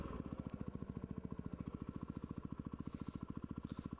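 A Yamaha WR250R motorcycle engine runs close up while riding, with a steady, rapid rhythmic firing pulse that stays loud and even throughout, without anyone speaking.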